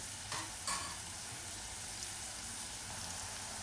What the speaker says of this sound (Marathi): टोमॅटो चांगला मिक्स करून घ्यायचा आणि कांद्यासोबत त्याला 1 मिनिटभर शिजून द्यायचं आहे